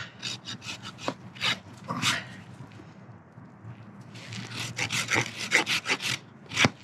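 A farrier's rasp files around the front edge of a horse hoof in rapid rough strokes, two bursts of scraping with a pause between, close and fairly loud.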